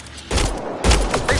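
Video game gunfire rings out in rapid bursts, two loud volleys of overlapping shots with sharp attacks and short gaps between them, close and dominant.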